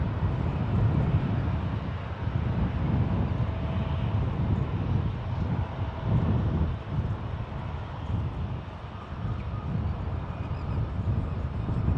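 A Swiss Airlines Boeing 777-300ER from Zurich lands at San Francisco International Airport, a broad, distant jet roar rumbling steadily for several seconds, mixed with wind buffeting the microphone.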